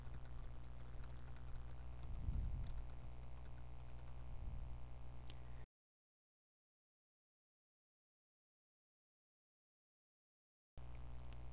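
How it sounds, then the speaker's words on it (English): Typing on a computer keyboard during a project planning task, a steady run of soft clicking keystrokes over a constant hum, then a stretch of silence before the hum returns. "Go ahead and type that in."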